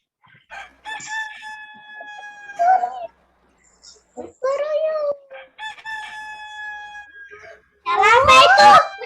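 Synthetic, meowing cat calls from a cat video game, with stepped tonal pitches, repeat in short bursts separated by silence, ending in a louder, more chaotic burst of overlapping yowls.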